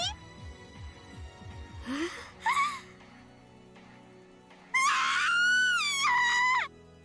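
A character screams in the visual novel Umineko When They Cry, with short gasping cries early on followed by a long, loud, wavering shriek that holds for about two seconds before cutting off.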